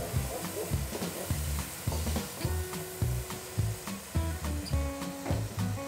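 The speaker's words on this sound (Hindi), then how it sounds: "मसाला हमारा अच्छे से भुन चुका है" Thick spice paste for kadhi pakora sizzles and sputters in a hot pan, with repeated scraping and stirring knocks in an uneven rhythm, close by.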